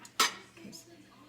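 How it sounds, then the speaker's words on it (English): Pans and lids are handled and put into a kitchen drawer, with one sharp metallic clank followed by softer rattling and knocks, alongside faint talk. "The pans and then the lids that go with the pans in their respective drawer"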